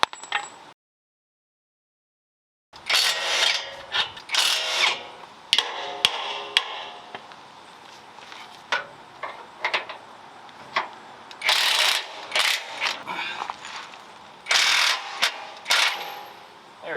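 A ratchet works on bolts during a suspension install on a 5th generation Toyota 4Runner, giving bursts of sharp clicking and metallic clatter, close and intermittent, separated by brief pauses.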